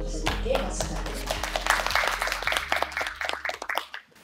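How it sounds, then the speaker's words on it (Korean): An audience at a policy forum on Hwaseong special city development claps for a professor introduced as panel chair, with sharp hand claps mixing with room noise and fading out near the end. "교수님께 박수 부탁드립니다"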